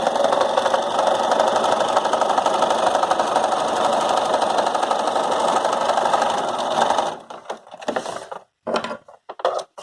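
A sewing machine runs steadily for about seven seconds, back stitching through several sliding layers of fabric for a face mask, then stops and starts in short bursts, close and loud with no voices.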